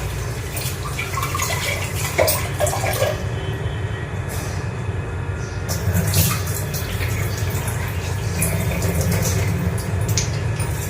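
Fresh spices washed by hand under running water from a tap in a home kitchen: a continuous splashing stream with brief surges and rinsing swishes, close and fairly loud, with no talk.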